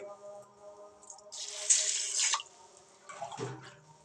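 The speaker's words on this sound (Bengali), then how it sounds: "হালকা হাতে জল পাল্টে পাল্টে ধুয়ে নেব যতক্ষণ না পরিষ্কার জল বেরোবে ততক্ষণ আমি ধুয়ে নেব চার পাঁচবার" Basmati rice washed by hand in a large bowl of water, two short bursts of sloshing and splashing separated by quiet, recorded up close with no talking.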